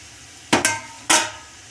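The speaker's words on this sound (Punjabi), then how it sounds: "ਹੁਣ ਅਸੀਂ ਇਹ ਤੜਕੇ ਨੂੰ ਦਾਲ ਦੇ ਵਿੱਚ ਪਾਵਾਂਗੇ" Hot tadka tempering poured into a pot of cooked moong dal gives two sharp, close sizzling bursts in quick succession, then a third, each hiss fading quickly.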